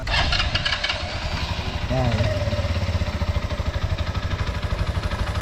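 Motorcycle engine catches and settles into a close, loud idle with a rapid even chugging pulse, while someone speaks over it.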